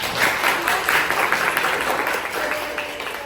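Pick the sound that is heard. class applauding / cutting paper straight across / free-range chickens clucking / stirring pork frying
class applauding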